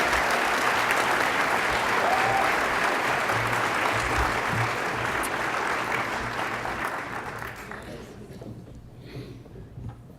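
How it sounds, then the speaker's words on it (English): A large audience claps loudly and steadily at an evening speech event as a speaker leaves the stage, the dense applause fading gradually over the last few seconds. "A round of applause to Christina Lagos."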